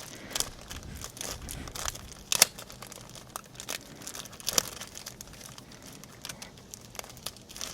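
Crinkling plastic bag holding zip ties for a Chevrolet Sonic sedan spoiler install, rustled and torn open in uneven bursts of close, faint crackle with a couple of sharper snaps.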